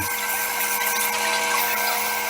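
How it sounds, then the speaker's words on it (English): A high-pitched power drill fitted with a sanding attachment whirs continuously with a steady sanding hiss on a segmented wooden bowl, close and loud throughout. "I use my drill with a sander connected to it"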